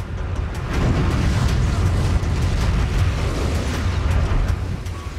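Animated re-creation of the 1902 Mount Pelée volcanic eruption at Saint-Pierre, Martinique, a sustained loud explosive roar with broad rumbling and crackling bursts filling the whole stretch, close and heavy without pause.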